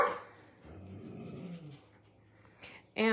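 A dog in a residential neighborhood growls low and steadily at a passing husky, then breaks into a sharp close bark at the end, with quiet room sound in between.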